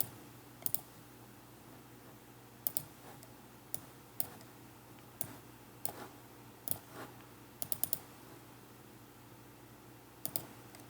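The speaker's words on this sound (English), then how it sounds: "So you have to click on install." Computer mouse clicking to install software, several sharp close clicks spaced irregularly, some in quick pairs, over a quiet background.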